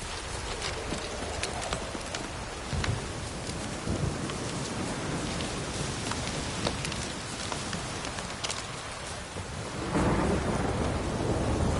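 Heavy rain pours steadily in The Witcher Wild Hunt, with rolling thunder and a swell in the downpour near the end, loud and continuous with no talk.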